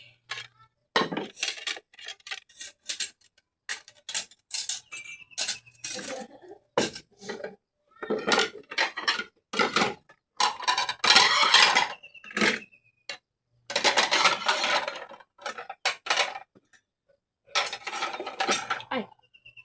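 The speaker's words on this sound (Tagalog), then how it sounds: "Mag-kuha na tayo ng pinggan. Hugas." Dishes and cutlery being washed by hand at home, with irregular clinks and clatters of plates and utensils in bursts separated by short pauses, fairly close.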